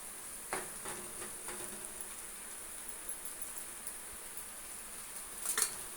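Prawns fry in a pan with a steady, quiet sizzle and faint crackle, a few brief stirring scrapes standing out near the start and end.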